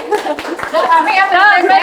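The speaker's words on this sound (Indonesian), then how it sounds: "Yang di sini juga boleh tepuk tangan biar ramai." A small podcast audience claps in a few scattered, sharp claps, mixed with overlapping voices, chatter and light laughter close by.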